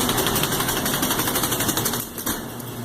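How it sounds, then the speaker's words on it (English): An unbalanced washing machine at a laundromat thumping and rattling in a fast, steady mechanical rhythm, loud and close, easing slightly near the end. "I got a wash machine that's not happy"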